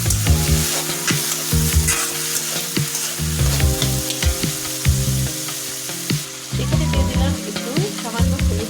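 Potatoes being stirred in a frying pan while they fry for aloo bhaji, with a steady sizzle and repeated scraping and clinking strokes of the spoon against the pan, loud and close with no talk.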